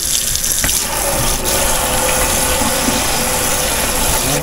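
Steady running tap water splashing over an Angus beef sirloin tip steak in a kitchen sink, a loud continuous close rush with no talk over it.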